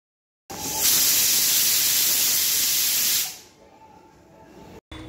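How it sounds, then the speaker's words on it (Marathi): A pressure cooker whistle blasts steam while rice cooks with salt, a loud, steady hissing rush lasting nearly three seconds before dropping to a quieter lingering hiss. "चला भाताची छान 1 शिट्टी झालेली आहे."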